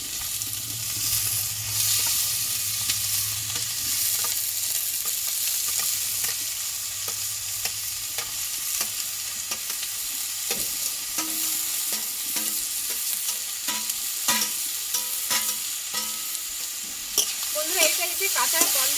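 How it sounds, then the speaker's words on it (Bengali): Chopped banana stem and papaya sizzle steadily in hot mustard oil in a wok, with a continuous frying hiss broken by frequent scraping stir strokes and clinks of the spatula, close and fairly loud throughout. "এবার কেটে ধুয়ে রাখা থোর আর পেঁপেটাকে আমি একটু কষে নেবো"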